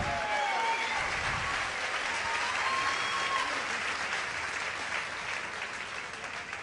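A crowd applauds two grappling fighters after a submission-only jiu-jitsu match, a thick continuous wash of clapping that holds steady and eases off slightly toward the end.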